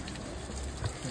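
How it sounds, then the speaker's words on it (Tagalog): Steady hiss of waterfall spray heard from beneath the falls at Lauterbrunnen, Switzerland, like rain pouring all around, filling the space from close by. "dito kami sa ilalim ng falls."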